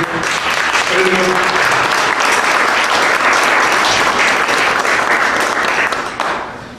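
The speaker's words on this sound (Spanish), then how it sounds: "lo recibimos con un aplauso" An audience at a national education dialogue forum applauds a teachers' union panelist being welcomed, loud dense clapping sustained for nearly seven seconds, with a voice briefly audible early on, tapering slightly at the end.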